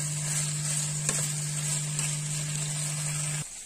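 Cabbage fries in a pan with the leftover pork drippings over lowered heat, a steady close sizzle with a couple of soft scrapes from stirring and a constant low hum beneath.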